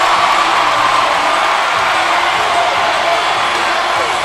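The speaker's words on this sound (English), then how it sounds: "just listen to this crowd here at Golden Gymnasium" A loud, dense home crowd roars and cheers nonstop in Golden Gymnasium after a men's basketball win sending the team to the NCAA Elite Eight, a wide steady wall of noise from all around.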